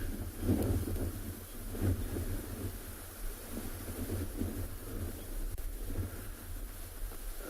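Strong wind on a sunrise safari drive in the Tswalu reserve, a steady, rough buffeting roar across the microphone with gusty swells and no voices.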